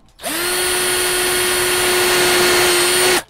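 A power drill bores through a homemade fishing-rod rack for a car, spinning up sharply and then holding one loud, steady, high whine for about three seconds before stopping abruptly, with no talk.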